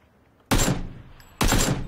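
Two loud, close gunshot bursts in PUBG, each a sharp crack with a ringing tail, the second coming about a second after the first.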